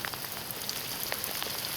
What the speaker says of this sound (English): The rain hasn't let up much.